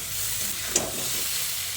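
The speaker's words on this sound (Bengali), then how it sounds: "চিনিটা দিয়ে আবারও একসঙ্গে সব কিছুকে মিশিয়ে নিলাম" Vegetables, including drumstick stalks, sizzle in a pan as sugar is added and mixed in, a steady frying hiss broken once midway by a quick stirring scrape.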